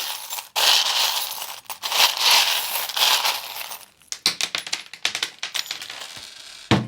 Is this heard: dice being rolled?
yes